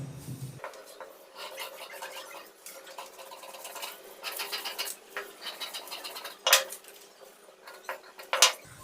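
Scissors snip and rasp through paper while cutting the back piece of a princess-cut blouse pattern for a 36-inch chest: steady close scratchy cutting with a few sharper crisp snips near the end, no talking.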